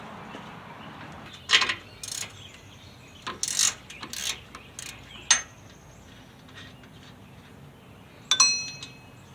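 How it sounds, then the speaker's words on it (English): A socket wrench turns 9/16 bolts on the bottom of a Fulton trailer winch, giving bursts of quick metallic ratcheting clicks, close and crisp, separated by quiet pauses. "Now I'm going to grab the appropriate socket to undo the 3 bolts on the bottom"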